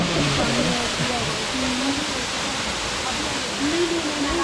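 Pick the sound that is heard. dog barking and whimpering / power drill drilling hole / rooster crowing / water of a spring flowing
water of a spring flowing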